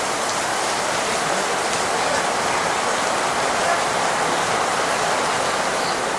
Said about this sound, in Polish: bo tak pada deszcz